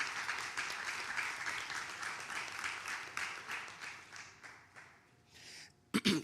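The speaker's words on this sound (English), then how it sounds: "That's definitely worthy of a clap." An audience at a homebuyers workshop claps in a brief burst of applause that starts fairly full and fades out over a few seconds.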